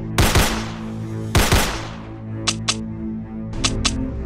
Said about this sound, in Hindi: ज़ॉम्बीज को आता देख शॉन उनके ऊपर फायरिंग करने लगता है